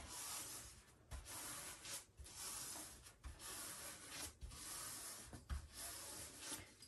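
A paintbrush pressed hard scrubs a very thin coat of paint into canvas in repeated back-and-forth strokes, a close, dry, rasping rub with brief pauses between passes and no one talking.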